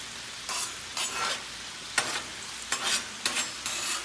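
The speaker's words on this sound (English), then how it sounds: "I'm gonna use this bacon grease to get these mushrooms" Mushrooms cook in bacon grease on a Blackstone griddle, a soft sizzle broken by bursts of scraping and stirring with a spatula at irregular intervals, close and fairly loud with no talking.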